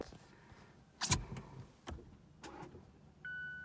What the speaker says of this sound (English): Okay, so I'm in my car, gonna try to start her up.